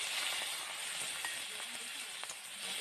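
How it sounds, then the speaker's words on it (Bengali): Pieces of crab coated in salt and turmeric frying lightly in oil give a dense, steady sizzle and hiss throughout, with faint scattered pops and stirring sounds, close and continuous with no voices. "কাঁকড়াটাকে খুব একটা বেশি ভাজবো না, হালকা করে ভেজে নেবো"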